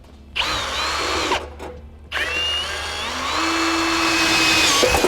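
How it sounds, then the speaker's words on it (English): A power drill with a 1/4-inch bit whines in short bursts through the back of a 2013 Cadillac SRX bumper, pausing briefly between them, then runs longer with its pitch rising and falling as it bites in. "and drill through the back of the bumper."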